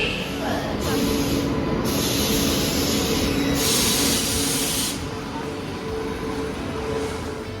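Steady hiss and rumble of a busy Indian railway station while waiting on the platform for a train, a dense continuous wash of noise with no distinct events standing out.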